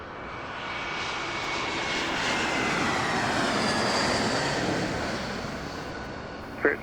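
Airplane taking off from runway 26 right at Las Vegas airport, a steady, loud engine roar that swells and holds throughout, heard from a distance with no voices.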